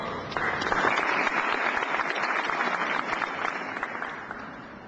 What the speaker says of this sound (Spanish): Demos la bienvenida a nuestro primer expositor con un fuerte aplauso.